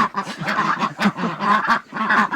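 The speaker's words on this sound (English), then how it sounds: "Ducks are very ably going to demonstrate how they can go in and out." Several ducks quack in quick, overlapping bursts near a repurposed rose-arch doorway, loud and close, with a steady clamouring rhythm.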